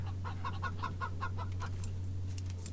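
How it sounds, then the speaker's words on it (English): A cyborg chicken in the post-apocalyptic game Wasteland 3 clucks in a rapid, even series of about a dozen close clucks, then a few scattered higher calls, over a constant low electrical hum. "Alright, we've got another cyborg chicken."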